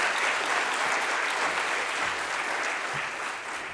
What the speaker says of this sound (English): you guys deserve a clap